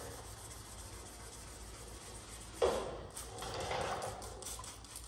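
Sandpaper is rubbed by hand over a 1972 C10 truck cab in final primer, a faint dry scraping that swells briefly into quiet back-and-forth strokes before fading.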